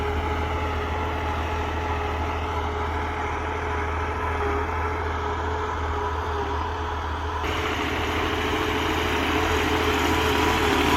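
A CRDI tractor engine runs steadily in eco mode up close, a loud low rumble with constant mechanical drone and a slight shift in tone partway through.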